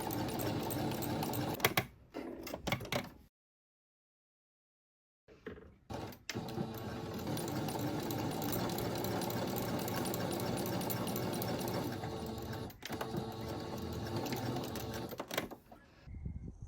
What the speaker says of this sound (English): I'm going to sew that together with a straight stitch as well